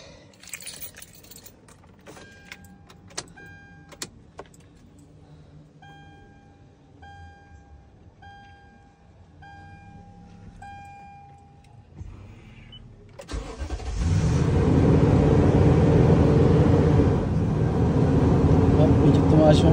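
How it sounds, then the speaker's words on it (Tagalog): After a throttle body cleaning, a car's dash chimes ding at a steady rate and keys rattle. Then the engine cranks and starts at about 13 seconds, settling into a loud, steady, raised idle. "Medyo tumaas yung idle niya, nag 2000 RPM."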